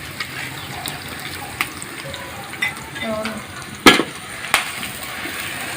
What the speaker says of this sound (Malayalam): അപ്പോൾ നമ്മൾ സബോള ഇട്ട് വറുക്കുകയാണ്.